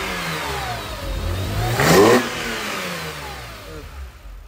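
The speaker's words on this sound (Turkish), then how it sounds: "Hafif bir devir duyalım mı?" A BMW Z3M Coupe engine under restoration revs up close by, swelling to a brief peak near the middle before settling back toward a rough idle, with no talk over it.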